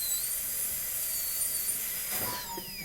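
A high-pitched dental drill whines steadily while cutting into an upper molar, a thin sustained tone that wavers and then drops in pitch near the end as the bur slows, heard close up without talking.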